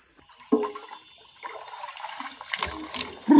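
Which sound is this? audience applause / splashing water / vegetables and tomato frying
splashing water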